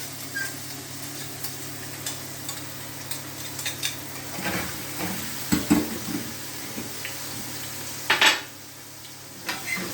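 Mashed mixture lowered into hot oil with a fork, soft sizzling and frying hiss with scattered light clinks and scrapes of the fork against the pan, no voices.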